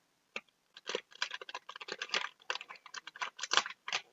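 A silver foil packet is cut open, giving a run of close, crisp crinkling and snipping clicks in quick irregular bursts with no talk.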